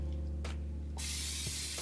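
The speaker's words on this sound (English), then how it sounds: "I'm gonna use some non-stick spray on my pan" A single short burst of non-stick cooking spray is sprayed onto a pan in a kitchen, a close, steady hiss lasting under a second over faint background hum.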